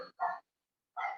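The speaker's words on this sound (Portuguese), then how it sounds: "agora tem os cachorrinhos latindo aqui" Small dogs give two short yappy barks in the distance, then a pause and another bark, fairly faint and alone.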